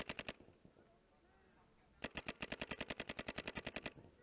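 Paintball marker firing on a tournament field: a few quick shots, a pause, then a long rapid string of about twenty evenly spaced sharp pops, loud and close.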